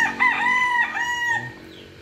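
A rooster crows loudly and close in a chicken yard where hens feed on grass, one long drawn-out call with clucking fowl underneath, no talk.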